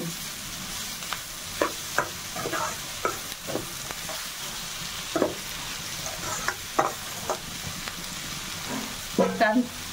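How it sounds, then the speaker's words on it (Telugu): Egg bhurji fries in a pan with a low sizzle while a spatula stirs it, making repeated scraping strokes at an irregular pace and a quick flurry of scrapes near the end. "ఒకసారి కలిపి"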